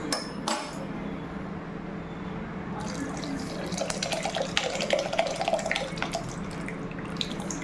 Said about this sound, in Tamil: அதோட தண்ணி மட்டும் விட்டால் போதும்.